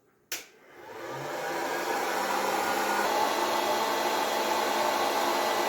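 A gourmet popcorn machine switched on: a sharp click, then a steady whooshing fan-like hum rises and holds, loud and close, with no talking.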